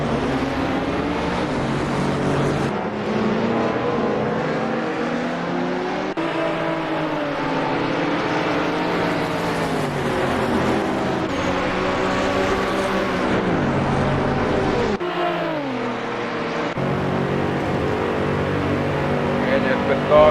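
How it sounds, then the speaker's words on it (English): Race cars in Assetto Corsa at Imola roar down the main straight in a loud, continuous engine drone with shifting revs, while a commentator talks over the racing throughout. "Once again, try to pass Rodine in this main straight."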